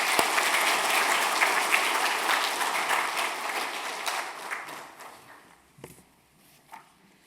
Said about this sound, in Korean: 우리 목사님 나오실 때 큰 박수로 환영해 주시겠습니다